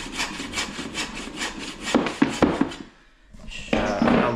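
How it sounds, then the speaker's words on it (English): A hacksaw cuts wooden laminate beading held in a cheap mitre block, with close, rhythmic rasping strokes, a short pause, then more sawing. "We're using a hacksaw because we're good."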